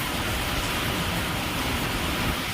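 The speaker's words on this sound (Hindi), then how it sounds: "और देखो बारिश आई और यहाँ तक बारिश आ रही है" Heavy rain falls at a zoo in Jammu, a dense, steady rushing wash that stays loud and even throughout, with no voices over it.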